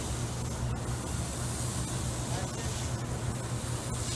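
A proportioner hose spraying a water and soap mix, a steady loud hiss of pressurized spray running continuously without a break.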